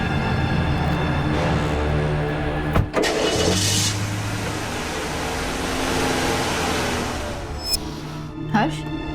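A car engine starts and runs as the vehicle moves off, a mid-pitched motor hum with a couple of sharp clunks, under background music from a crime drama scene.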